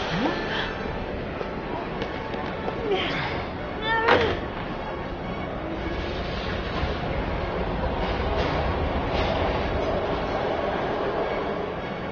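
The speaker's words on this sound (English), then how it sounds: "We've got to get on that train, Ethan." A train rumbles past in the video game Heavy Rain, a continuous rolling clatter with occasional metallic screeches and bangs, fairly close and steady throughout.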